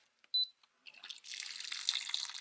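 Hot water is poured into protein powder, a close, hissing stream that begins after a brief click and runs steadily to the end.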